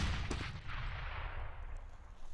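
Gunfire and grenades in Counter-Strike on de_mirage: a faint, distant gunshot crack comes early, then a low, continuous rumble of battle holds in the background.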